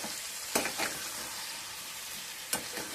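Onions, tomatoes and cashews cooking in oil in a pan give a soft, steady sizzle, with two brief louder scrapes or stirs, quiet and close, with no speech.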